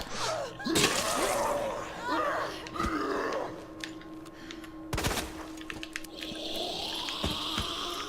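Bursts of several gunshots at once from an enemy in Resident Evil 2 (2019), sharp cracks scattered among game sounds and gasps, with a voice talking at times.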